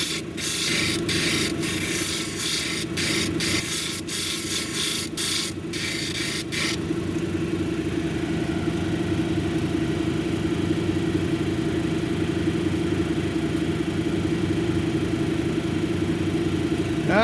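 Banded amethyst cabochon edges being ground on a grinding wheel: a steady motor hum runs throughout, with a rough, hissing grinding burst of stone on the wheel over the first several seconds before it settles back to the running machine alone.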